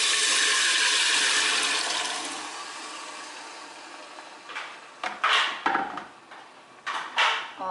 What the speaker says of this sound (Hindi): तो अब मैं इसमें डालने वाली हूँ चने।